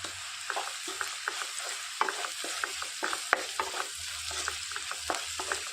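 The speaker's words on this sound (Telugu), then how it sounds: "ఒక రెండు సెకండ్లు ఈ తాలింపు అనేది మంచిగా వేయించుకోవాలి" Spices, onion and turmeric fry in a pan as a tempering with a constant hiss, punctuated by rhythmic spatula taps and scrapes; no one speaks.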